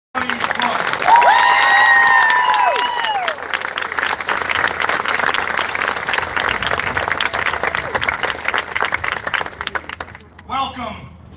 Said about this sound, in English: how about a round of applause for the honorable class of 2021